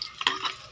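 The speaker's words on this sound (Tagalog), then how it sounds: "Haluin na po natin mga idol." A brief scrape and clink of a spoon stirring lemongrass and ginger in a cooking pot for fish-head soup, one quick stir over a faint sizzle.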